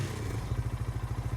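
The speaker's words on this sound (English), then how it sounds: "It literally sounds like a motorbike." An in-game vehicle engine in Farming Simulator 19 that sounds like a motorbike, a low, rapid, pulsing putter that steadies into an even throb, close and alone.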